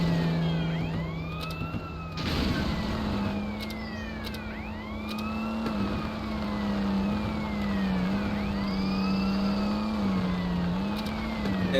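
Police car siren in an Android Hyundai Accent driving simulator game, a synthetic wailing siren sweeping up and down repeatedly over a steady engine drone, with short clicks and a bump partway through.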